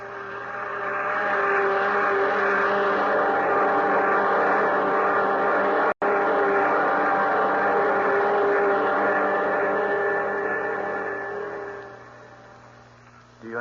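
Spaceship jet dynamos in a 1950 science-fiction radio drama hum as a steady, loud mechanical drone with layered tonal bands, holding throughout apart from a brief cut midway and easing off near the end.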